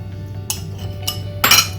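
A spoon clinks against a pan while custard mixture is stirred into milk on the flame: three sharp metallic taps over a steady low hum, close and fairly loud.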